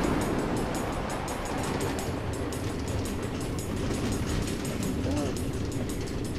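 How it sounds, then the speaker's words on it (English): A minecart train runs on automated redstone tracks through the Nether in Minecraft Story Mode, giving a continuous loud rumbling roll with rapid rhythmic clicking, steady throughout. "Automated train tracks running all through the Nether, connecting all the different order members?"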